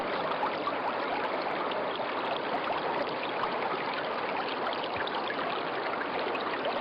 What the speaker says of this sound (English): This is Banyumala Twin Waterfalls